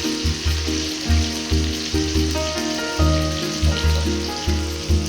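Ginger-garlic paste and spices frying in a hot pan, a loud close sizzle pulsing in regular bursts as the pan is stirred, with tonal background music running underneath and no talking.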